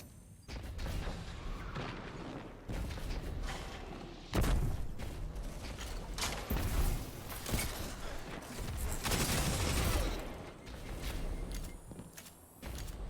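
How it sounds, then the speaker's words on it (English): Grenade launcher explosions and gunfire in a first-person shooter game, with dense booms and rattling shots going on continuously at moderate loudness, with no talk over them. "I hate grenade launchers."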